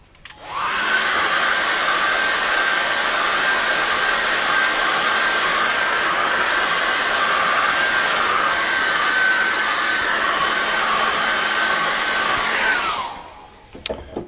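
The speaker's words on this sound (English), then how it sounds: "And again, hairdryer." A hair dryer blowing on acrylic paint, a loud steady whirring roar held for about twelve seconds before switching off, close and alone.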